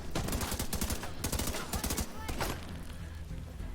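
Rapid bursts of automatic gunfire in The Division 2, loud and dense, with overlapping shots crackling through the first two and a half seconds before thinning out into scattered fire.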